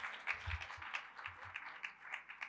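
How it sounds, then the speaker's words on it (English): Audience at a teaching and learning festival clapping hands for a presenter, a steady, moderately faint patter of many hands filling the space, with a few low thumps mixed in. "So can we clap hands again for Mr."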